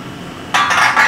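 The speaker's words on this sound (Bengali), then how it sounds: "ঢাকা দিয়ে দিচ্ছি।" Lid set onto a pan of simmering tangra fish curry, one sudden metallic clink with a brief scraping ring as it settles, close and fairly loud after a quiet moment.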